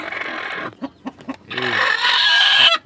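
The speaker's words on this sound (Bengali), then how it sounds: "এই যে আমার প্রিয় পাহাড়ি মুরগি" A hill chicken, a bearded breed, gives short clucks in a few separate bursts before breaking into a longer, loud crowing call, close by with no talk.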